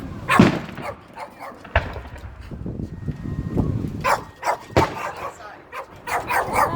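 Dogs bark in sharp intermittent bursts nearby, with people talking and household noise in between.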